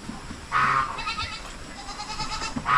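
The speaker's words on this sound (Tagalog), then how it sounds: "Kakadako sa kambing." A goat on a farm bleats nearby, one clear wavering call followed by a softer drawn-out bleat and the start of another over light outdoor background noise.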